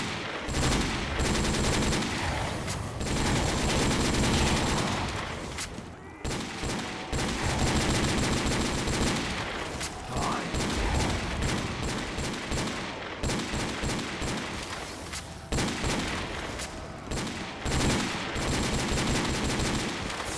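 Desert Eagle pistol fire in Call of Duty custom zombies: rapid, loud gunshot bursts nearly nonstop, with brief pauses between volleys against a busy, noisy game backdrop.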